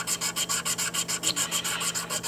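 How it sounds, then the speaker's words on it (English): A fossil sand dollar (Dendraster gibbsii echinoid) is wet-sanded on wet-dry sandpaper with quick, even back-and-forth rubbing strokes, about six per second, close and alone. "and you start sanding."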